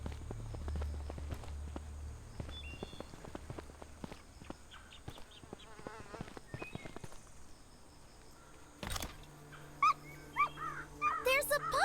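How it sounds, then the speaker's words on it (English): A puppy in a zombie survival video game whimpers and pads along, with soft footstep taps, game sound effects and short high yelps near the end. Quiet and close. "There's a puppy! Come here, little puppy."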